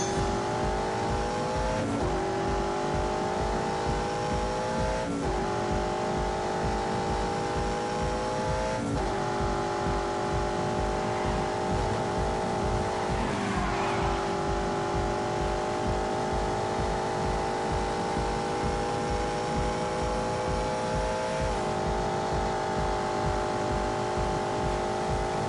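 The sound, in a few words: V8 car engine accelerating in The Grand Tour Game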